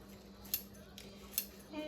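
Scissors snip through cooked chicken in a kitchen, giving two crisp, separate cuts about a second apart over a low steady background hum.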